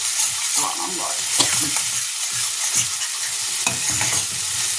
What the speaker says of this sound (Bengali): এটা একটু ভাজা ভাজা হবে।